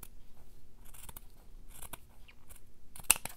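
Lace trimmed with scissors in a quiet room: a few soft, brief snips spread out, ending with one sharper, louder close-up snip.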